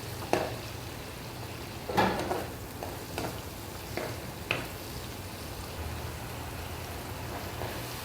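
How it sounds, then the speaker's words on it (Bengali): Onion and green chilli fry in a pan with a quiet steady sizzle, broken by a few sharp stirring clacks near the start and middle, then a soft even hiss. "এই যে পেঁয়াজ আর কাঁচামরিচ দিয়ে দিছি পেঁয়াজ আর মরিচটারে হালকা লাল করে তারপর মশলা দেন"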